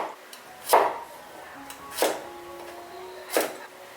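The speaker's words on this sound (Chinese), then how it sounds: "再来切一些姜片跟蒜粒" A kitchen knife slices ginger and garlic cloves on a cutting board, three distinct, fairly quiet chops spaced evenly apart with near silence between them.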